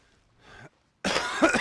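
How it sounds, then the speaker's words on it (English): Someone rambling into a microphone about Genshin Impact coughs twice: a faint, short cough, then a pause and a louder, harsher cough close to the mic. "I don't care if I'm coughing."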